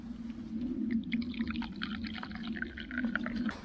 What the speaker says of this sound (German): Hier auch das Wasser reinmachen.